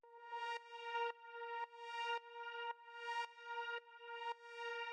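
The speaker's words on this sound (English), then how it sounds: "But the next layer we have here actually is this little drone" A soft, sustained synth drone layer in an evolving, warped-chord electronic track, a rich harmonic tone pulsing in repeated swells about every half second, alone and fairly quiet.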